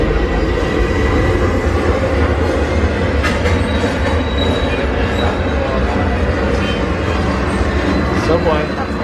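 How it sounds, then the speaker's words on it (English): A New York City subway train rumbles past with a loud, continuous low roar and rattling wheels, close and steady throughout, with a voice faintly mixed in beneath. "Subway."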